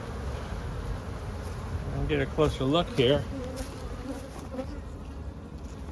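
Honey bees in an opened spring hive full of bees hum in a steady close buzz, with a person speaking briefly over it partway through.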